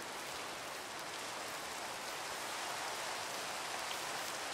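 Steady rain falls in the video game Minecraft, a dense, even hiss of drops with no variation or voices, constant and moderately soft throughout.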